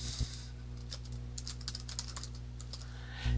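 Quick clicking keystrokes on a computer keyboard, close and fairly soft, tapping in short irregular bursts for a few seconds over a low steady hum, with no speech.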